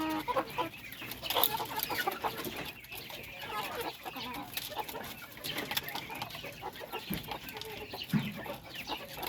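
Native chickens cluck busily while being fed pellets, a dense, continuous chorus of close clucks and short calls with an occasional crow.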